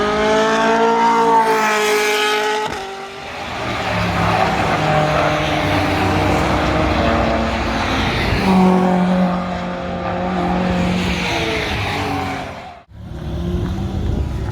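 Porsche race cars at Brands Hatch accelerating hard through the gears, a loud sustained engine roar with rising pitch sweeps and a brief dip near the end, heard close and continuous without talk.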